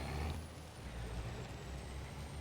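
An air brake on a farm truck on a rice field hisses briefly at the start, then the idling truck drones low and steady under a faint high whine, quiet and somewhat distant.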